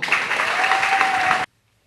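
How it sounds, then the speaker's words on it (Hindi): Crowd applause welcoming a speaker onto a stage, a dense burst of clapping with a faint tone under it that cuts off abruptly into silence. "तो आपकी शानदार तालियों के बीच में मैं बुलाना चाहूंगा"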